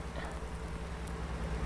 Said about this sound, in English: The rain is not helping.